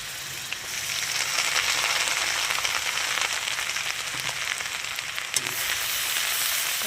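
Garlic and ginger paste sizzling in hot oil while being stirred for butter chicken, a continuous loud frying hiss close by with occasional scrapes of the spoon against the pan, no voices.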